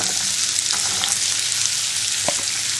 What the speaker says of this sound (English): let's get the potatoes into the butter and the oil